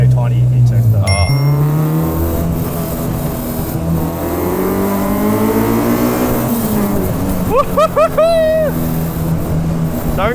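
A K-swapped Honda Civic EG with a K20 engine revs hard on a mountain road, its engine note climbing steadily from inside the cabin, while people talk and laugh over it.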